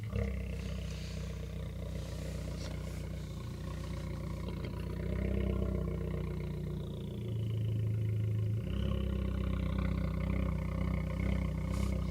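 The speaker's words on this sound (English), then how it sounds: "we got another tuned car with an exhaust just to be loud" A deep engine roar rumbles steadily, swelling louder as a car with a throaty exhaust revs and passes nearby.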